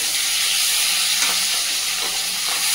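Meat frying in hot oil seasoned with salt, turmeric and a little Kashmiri chilli, giving a steady, close, loud sizzling hiss throughout with faint stirring scrapes and no talking.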